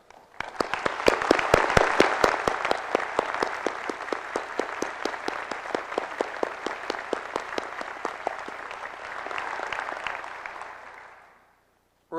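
Sustained audience applause at a university presidential inauguration, honoring members of the Brownell family: dense clapping swells early, holds steady for about ten seconds, then fades out.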